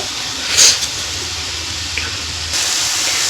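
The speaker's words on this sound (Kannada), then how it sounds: "ಸ್ವಲ್ಪ ನೀರು ಹಾಕೋತಾ ಇದ್ದೀನಿ ನಾನು ಸ್ವಲ್ಪ ಬೆಲ್ಲ ಕರಗಲಿಕ್ಕೆ" Water pours steadily into a pan of melting jaggery and grated coconut for a modak filling, a close hissing stream with a brief splash near the start.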